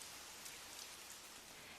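Steady, soft rain falling in an even hiss with faint patters of drops, distant and quiet, with no voices.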